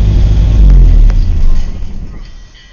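A Series II Land Rover engine idles with a loud, low rumble that fades and dies away as it is shut off, leaving near quiet.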